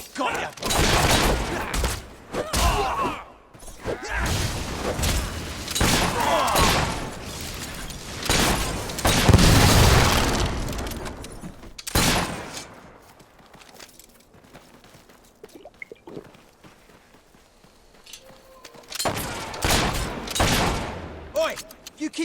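Gunfire in the Fable 3 video game comes as repeated loud shots and bursts with booming impacts, alternating with quieter stretches, while voices talk over parts of it.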